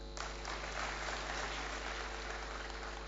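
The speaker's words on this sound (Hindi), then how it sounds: "जोरदार तालियां।" Steady applause from an audience at a racial diversity sensitization event in India, dense and continuous over a low background hum, with no voices over it.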